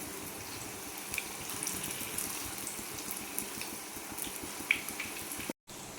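Pokkavada batter fries in hot oil over a medium flame, a continuous dense crackling sizzle heard close up with a few brief pops, broken by a short silence near the end.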